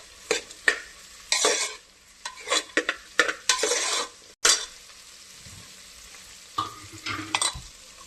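Carrots and other vegetables cook in a pan for soya chunks pulao, a spoon scraping and stirring in repeated bursts over a steady, moderate sizzle, with no voices.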